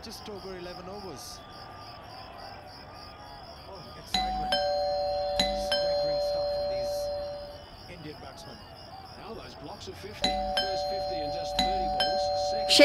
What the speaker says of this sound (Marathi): बेल वाजते